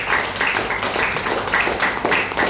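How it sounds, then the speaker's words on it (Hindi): An audience claps in rhythmic, evenly spaced bursts at a company event for DXN. The clapping is fairly loud and fills the whole stretch. "जो ताली लगा दे डीएक्शन के लिए।"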